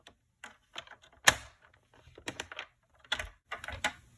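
A paper trimmer blade scores cardstock for a paper craft gift project, giving several short dry scraping strokes and clicks, close and fairly quiet, with small pauses between them.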